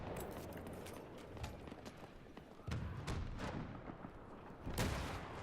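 Grenade blast in Battlefield, a sharp burst partway through followed by a second thump, amid crackling battlefield gunfire and distant rumbling, fairly faint overall.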